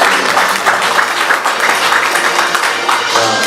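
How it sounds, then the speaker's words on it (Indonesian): A Sunday church congregation breaks into loud, dense applause, many hands clapping steadily and close for the whole stretch. "Ya, kita kasih tepuk tangan buat Yesus."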